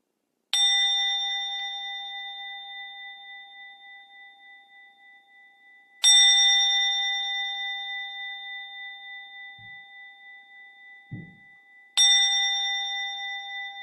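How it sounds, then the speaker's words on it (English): A meditation bell struck three times at slow, even intervals, each bright metallic ring sustaining and fading gradually in a quiet room, with a couple of faint soft knocks between strikes. "go ahead and ring a bell"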